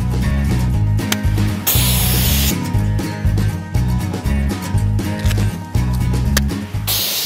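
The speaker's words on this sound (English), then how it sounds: "So you're spraying in that Z pattern, spraying at the bear and down to the ground" Bear spray is discharged in a Z pattern toward the ground, several loud close hissing bursts with short gaps between them, over a low rumble.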